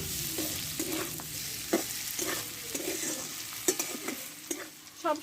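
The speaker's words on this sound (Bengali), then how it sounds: "চিনিটা দিয়ে কিছুক্ষণ একটু নাড়াচাড়া করে নেব।" Fried snake gourd is stirred with sugar in a pan. A soft sizzle runs throughout, broken by repeated scraping strokes of a spatula at an irregular rhythm.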